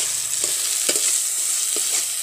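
Fried peanuts tipped into hot ghee for South Indian lemon rice, a steady bright sizzle with a few soft clacks as they land, no voices.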